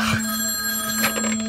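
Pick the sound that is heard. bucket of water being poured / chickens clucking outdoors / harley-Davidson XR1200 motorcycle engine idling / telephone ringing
telephone ringing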